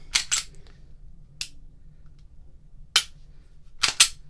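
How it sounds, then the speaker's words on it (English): FN FNS Compact 9mm pistol dry-fired, with sharp close mechanical clicks from the trigger breaking and resetting, several isolated snaps spread over a few seconds, including a quick double click, against a quiet background. "Very audible trigger. reset."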